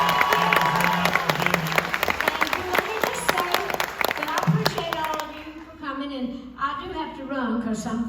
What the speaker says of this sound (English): let's give her a big round of applause for being here